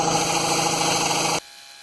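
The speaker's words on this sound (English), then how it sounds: "So I got to go get the air compressor going." An air compressor runs steadily with a loud, dense broadband hum and whine during work on a 1997 Chevy 1500 pickup, then cuts off abruptly near the end, leaving only quiet room noise.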